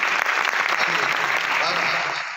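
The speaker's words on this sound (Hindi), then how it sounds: "इसके लिए ताली बजाओ इसके पास" Applause from a classroom of children fills a short burst, dense steady clapping close by with voices mixed underneath.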